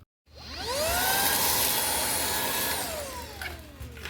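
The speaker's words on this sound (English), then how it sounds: "I'm just going to use my handheld vacuum to get that out" A handheld vacuum switches on with a rising whine and runs loud and close, sucking a glass shard out of a Frigidaire microwave, then its pitch sags as it winds down near the end.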